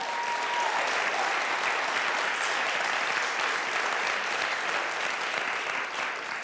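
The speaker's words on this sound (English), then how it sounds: "I think that's worth an applause." A school auditorium audience at a children's theater gives warm, even applause, a continuous dense patter of many hands at steady loudness from start to finish, with no one speaking.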